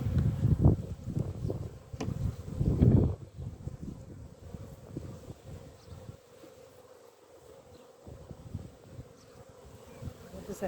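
Honey bees buzz around open beehives during a frame inspection, a low droning hum that swells loudly in the first few seconds and then continues more softly, with rustling and handling noises mixed in.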